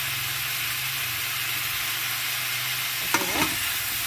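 Tomatoes drop into a hot frying pan and sizzle steadily, with a brief sharp scrape of stirring near the end, all close and without talk.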